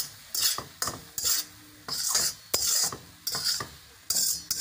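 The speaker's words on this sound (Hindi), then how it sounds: "स्टील की मामूली सी कढ़ाई ली है मैंने और स्टील का ही चमचा है मेरे हाथ में जिससे मैं मुसल कर इसको" A steel spoon scrapes and mashes food against a plain steel wok, giving repeated rasping strokes about every half second, close and fairly loud with no voices.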